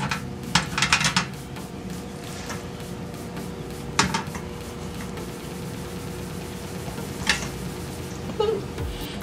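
Big pork chops are laid into a pan for oven frying, giving a few scattered metallic clunks and clatters against a steady low background hiss.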